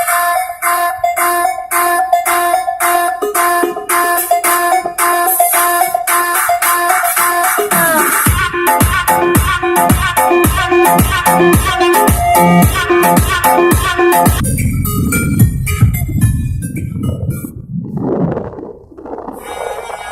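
Loud music played through JBL speakers installed in a car, bright melodic tones giving way to heavy pulsing bass beats strong enough to make the doors vibrate, steady and close.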